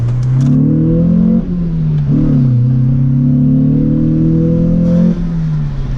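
A slow car accelerating onto a freeway in Mexico, its mid-pitched engine droning and rising through the gears with a brief dip at a shift, steady and close, with no one talking.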